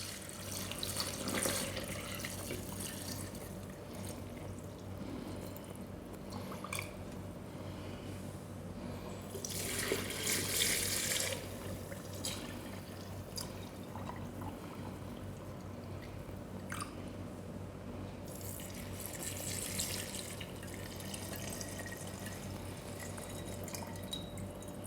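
Gin poured from a bottle into 2 litre jars without a funnel, a soft continuous trickling and splashing of liquid with faint surges, heard up close and without any talking.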